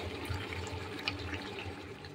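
Water poured into a pot of mutton cooking down in its spices, a quiet continuous splashing trickle close by, alone without talk.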